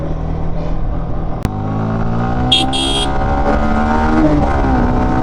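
A car overtakes on a road during a drive from Bangalore toward Honnavar and Murudeshwar in Karnataka. A steady, loud engine drone rises gradually in pitch, with a sharp click partway through and a brief high chirp.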